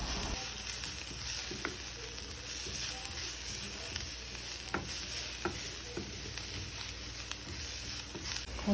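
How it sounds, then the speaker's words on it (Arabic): Grated carrots stirred in a frying pan for yellow chicken-flavour Indomie noodles, a steady close sizzle running throughout with occasional soft scrapes and taps of the spoon, no voices. "بعدين نحط جزر مبشور اللي بشرناه ونقلبهم برضو"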